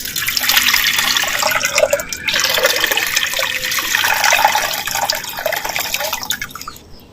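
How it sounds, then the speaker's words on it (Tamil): Fresh water poured into a clay pot for a village-style country chicken rasam, a continuous close splashing and gurgling stream that tapers off at the end, with no talking. "மண் சட்டி வச்சுக்கிறேன் நமக்கு தேவையான அளவு பச்சை தண்ணி வந்து சேர்த்துக்கிறேன்"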